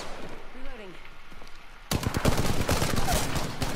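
Rapid automatic gunfire in a multiplayer shooter video game bursts in after a quieter stretch with a brief electronic tone, sustained bursts of shots close and loud through the second half.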